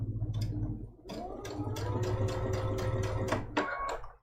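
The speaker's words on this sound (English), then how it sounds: "And we're just sewing all the way around." Sewing machine stitching around a raw-edge appliqué on a quilted Christmas trivet, close and steady mechanical whir with a rapid needle rhythm that stops near the end.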